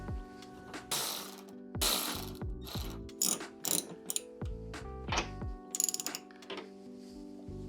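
Ratchet clicking in quick bursts as screws are run back into a Range Rover Sport L320 rear wiper motor, close and loud with short pauses between the runs of rapid pawl clicks.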